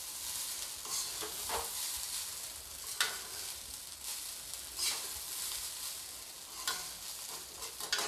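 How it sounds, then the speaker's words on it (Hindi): A spatula stirs fried rice in a hot pan after spring onion greens go in, giving soft repeated scraping strokes over a faint steady sizzle, with no talking. "प्याज को डालने के बाद मैं इसे एक बार और अच्छी तरीके से चला दूंगी।"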